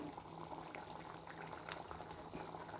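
Thick ginger barfi mixture bubbles and pops steadily in a pan while being stirred, a close, dense simmer with occasional louder blips.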